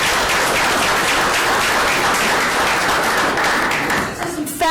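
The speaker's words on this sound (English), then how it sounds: "Let's give them a round of applause, please." Audience at a school board meeting in Bloomington applauds steadily, a dense, loud wash of clapping that fades out near the end.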